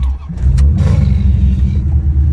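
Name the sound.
Chevrolet Corvette engine revving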